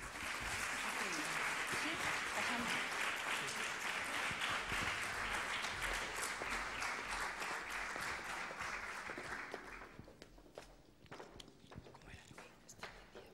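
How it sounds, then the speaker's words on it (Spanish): Strong audience applause fills a conference hall after speakers are introduced, a dense sustained clapping that runs for about ten seconds before thinning into scattered claps and shuffling as people settle. "les pido un fuerte aplauso para los siguientes ponentes"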